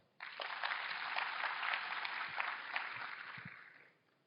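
Applause from an anniversary event audience greets two long-serving customers, a lady and a gentleman, with steady clapping held at moderate distance for about four seconds before fading out.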